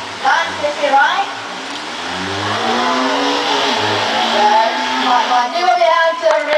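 A talking bird at a bird show in a Kuala Lumpur bird park imitates a car engine revving, with rising and falling whines that swell and fade over several seconds, fairly loud and close.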